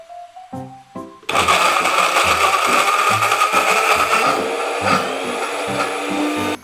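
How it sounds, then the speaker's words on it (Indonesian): Kitchen blender grinding Indonesian spice paste of galangal and oil, starting after a few short knocks and then running loud and steady with a whirring drone and uneven chopping pulses. "karena tadi pas ngeblender kan kita udah pakai minyak"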